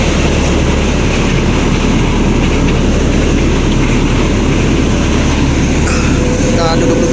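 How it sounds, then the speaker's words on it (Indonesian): Train passing over or near the Cipunagara bridge at the Subang border: a loud, continuous low rumble and clatter filling the whole stretch, with faint squeals near the end. "sini berisik banget kereta soalnya"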